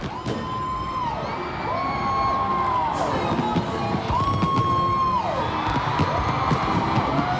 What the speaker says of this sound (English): can you hear the screams of the thrilled audience